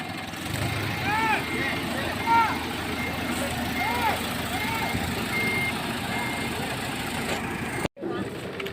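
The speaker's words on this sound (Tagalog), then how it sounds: "inaatas na po niya yung sasakyan dito sa may loob ng gate para maibaba na" A truck reverses in through a gate to unload a hut, its backup alarm beeping in a steady repeating pattern over a low idling engine and outdoor bustle, with voices talking nearby before a sharp knock near the end.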